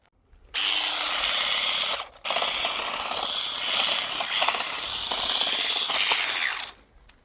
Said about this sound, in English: it actually does cut these little small growths